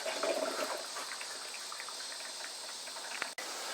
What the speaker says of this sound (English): It's taken a while to run that coffee.